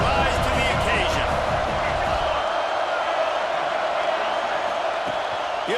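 Loud, dense roar from a packed college football stadium crowd at Oregon at Florida, building noise on fourth down to back the defence. The roar continues unbroken throughout, with a broadcast commentator's voice heard underneath.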